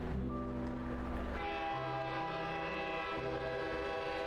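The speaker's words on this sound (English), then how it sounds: "Soon, there's a loud whistling as the fully loaded train lurches into motion" A fully loaded train in the video game Girls' Frontline 2 sounds a loud, sustained whistle over a low rumbling engine drone as it lurches into motion, steady and fairly close.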